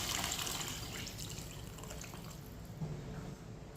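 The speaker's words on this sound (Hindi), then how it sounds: "2 गिलास पानी डाल लेंगे" Two glasses of water are poured into chana dal cooking in a pot, a soft, continuous splashing and trickle of liquid that stays quiet and fairly even, with one small bump partway through.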